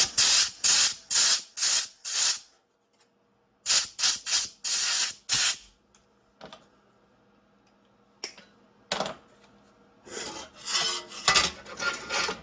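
A spray can of primer sprays a Yamaha XT500 motorcycle swingarm in a series of short hissing bursts, close and loud, with quiet pauses and small handling clicks between groups.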